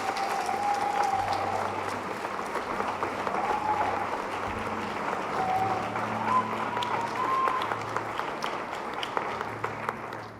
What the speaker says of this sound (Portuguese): Você pode aplaudir o Senhor por essa casa